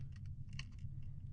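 Quick bursts of keystrokes on a computer keyboard, close and crisp, several clicks in a short run over a low steady hum.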